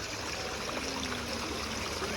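A water fountain at the Minnesota Landscape Arboretum trickles in a steady, even wash of outdoor water noise, continuous and moderately close, with no talk.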